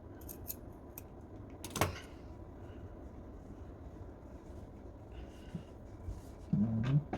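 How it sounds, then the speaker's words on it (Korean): Scissors snip the seam allowance of a wool work jacket at the sleeve vent, a few sharp, close clicks scattered over quiet background hum, with a louder snip near the start. "여기도 가위밥 주십니다."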